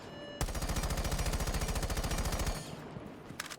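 An AK-12 rifle in a video game fires one sustained, very rapid automatic burst lasting about two seconds, loud and close, followed by a short trailing echo and a faint final click.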